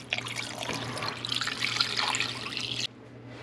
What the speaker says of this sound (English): So I'm going to fill this up with water,